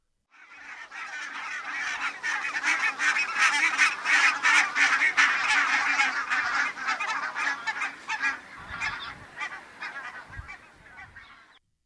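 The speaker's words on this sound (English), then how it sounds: "you are hearing multiple geese all emitting these calls overlapping each other in a cacophony" Many barnacle geese honk over one another in a dense, overlapping chorus, loud and continuous, thinning out toward the end.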